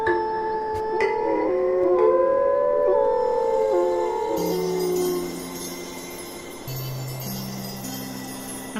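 Several wolves howl in the game Tengami, long rising and falling wails overlapping near and clear, then lower sustained tones take over toward the end with no talking.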